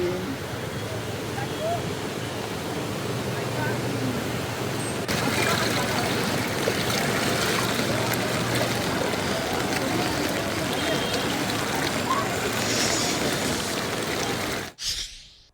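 Heavy rain with floodwater flowing through flooded streets of Nagpur, where water stands knee-deep: a dense, steady roar of rushing water that continues evenly and then drops off sharply at the end.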